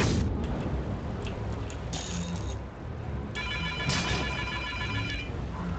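A phone rings in the Neverwinter video game, a repeated electronic trill sounding in two bursts over a dense, continuous wash of game noise.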